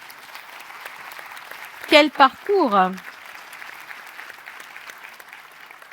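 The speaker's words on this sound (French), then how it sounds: "je crois qu'on peut l'applaudir" An audience at a doctoral degree ceremony applauds steadily in the background, a soft continuous patter of many hands, while someone briefly speaks over it partway through.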